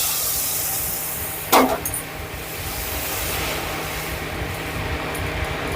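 Water poured into semolina frying in ghee for a sweet gives a sudden sharp hiss that quickly settles into a steady, close sizzling steam over a constant background hum.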